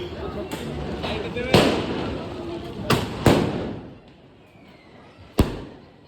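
Diwali sky shot fireworks bursting outdoors, four or five sharp booms scattered over a few seconds with crackling fallout between them, while people talk excitedly nearby.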